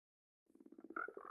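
White swamp frogs in a video game croak in a faint, quick run of evenly pulsed low croaks after a moment of silence, rising slightly in loudness toward the end.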